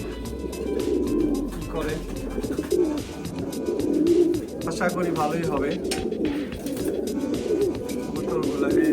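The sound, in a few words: pigeons cooing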